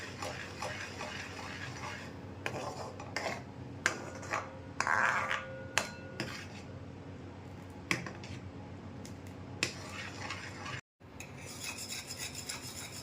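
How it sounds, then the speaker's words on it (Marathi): Custard kulfi mixture whisked steadily in a pan over medium gas, a continuous scraping rasp with scattered clicks and taps of the whisk against the pan, close and fairly quiet, with no talking. "अजून आपल्याला एकसारखं हलवत हे 4 ते 5 मिनिटं शिजवायचं आहे आणि मीडियम गॅसवर आपल्याला कंटिन्यू हे ठेवायचं आहे."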